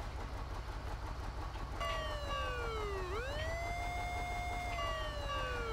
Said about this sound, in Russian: среди опций есть сирена. И как раз вот этим кузовом она включается